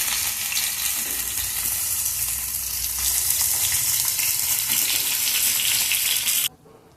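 Fish fries in a pan with a loud, steady, close sizzle and occasional crackles that cuts off abruptly just before the end. No one speaks.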